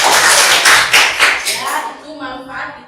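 A class of children applauds with a burst of dense, rapid clapping that fades after about two seconds, followed by a voice speaking.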